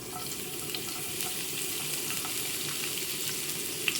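Steady, dense hiss of chopped onion frying in oil, constant and fairly close, with faint crackles scattered through it and no talking.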